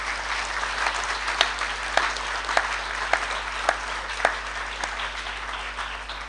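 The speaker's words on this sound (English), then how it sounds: "Let's give a hand of applause to the 6 Goswamis of Vrindavan." Steady applause from an audience of devotees at a spiritual talk, a continuous wash of clapping with a few sharper louder claps standing out, moderately distant and sustained.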